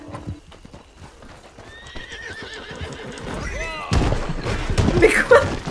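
Horse hooves clip-clopping at a gallop and a clear neigh in Red Dead Redemption II, growing louder and closer toward the end over background game sounds and talk.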